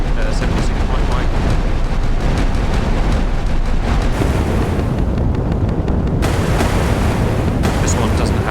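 A 76 mm naval gun firing in the naval video game Sea Power, heard as a loud, dense and continuous roar of booming shots and blasts that barely lets up from start to finish.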